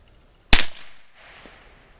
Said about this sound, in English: Fixing to take my turn firing the Kriss SBR.